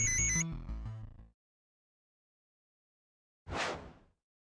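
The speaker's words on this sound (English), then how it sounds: "His phone started ringing." A mobile phone on an oil and gas rig rings with a short electronic melodic tone, then silence before a brief whooshing swish; no talking.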